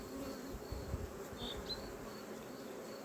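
A constant buzzing hum of many agitated honey bees close by at the hive, with a few individual bees whining past, over a low background rumble.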